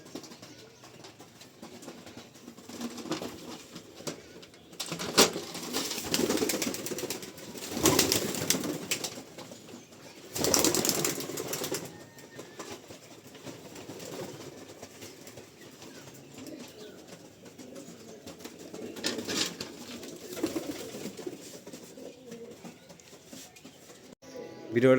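Pigeons newly brought home coo softly, with sudden bursts of wing flapping at intervals, fairly faint against a quiet room.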